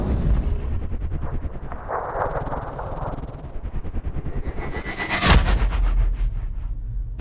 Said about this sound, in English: And then I can take the shot.